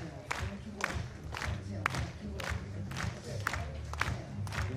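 Spectators at a recurve archery men's gold medal match at the Berlin 2019 World Cup cheer loudly, a dense crowd roar with rhythmic clapping bursts and shouts, commentary voices mixed in.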